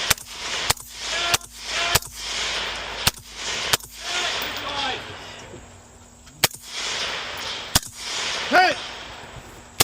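Pistol gunfire during a shooting competition stage run, with sharp loud shots at irregular intervals, some in quick pairs, while someone shouts between them.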